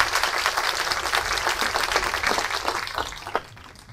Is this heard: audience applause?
yes